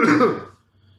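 A single short, harsh cough or throat-clearing burst, close and loud, lasting about half a second before quiet.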